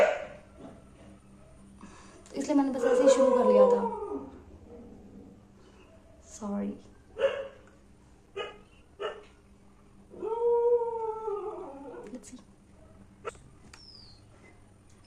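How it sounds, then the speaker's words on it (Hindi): Dogs bark and howl in drawn-out, wavering bursts, with a few short yips in between and a brief spoken word. "कुत्ते चिल्लाते ना"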